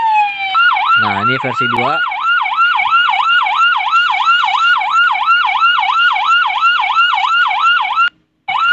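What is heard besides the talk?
police siren variants in an Indonesian police simulator video game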